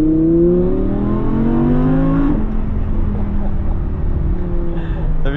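Rear-engined sports car accelerating from the cabin, a loud rising engine note climbing steadily for about two seconds, then a gear change and a lower, steady drone continuing to the end.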